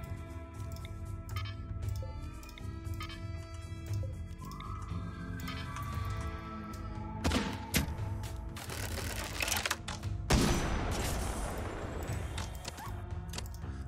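RimWorld combat gunfire in a modded medieval-melee playthrough: many rapid, dry clicking shots in uneven bursts over a steady game background, with denser cracks toward the end and no talking.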